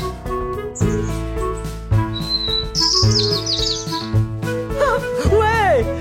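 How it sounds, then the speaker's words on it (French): Birdlike chirps and tweets ring out in a forest-themed exhibit at a science museum, riding over steady music. "C'est un oiseau!"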